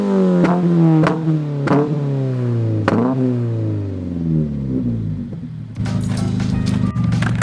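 A Subaru BRZ engine revs repeatedly in the snow, sharp rising blips followed by falling sweeps, then a rougher, busier roar near the end, all close and loud.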